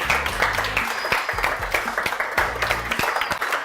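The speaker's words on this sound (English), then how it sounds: "give a big, big round of applause for our two special judges" An audience at a kids' inter-school cooking competition claps and cheers for two special judges, a dense, continuous round of applause close by.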